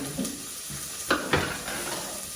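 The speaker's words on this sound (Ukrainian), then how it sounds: "Не забуваємо перемішувати нашу морку з цибулькою" Grated carrot and onion fry in a heated pot for pumpkin soup, a soft continuous sizzle broken by a few sharp scrapes and knocks of a spoon stirring against the pot.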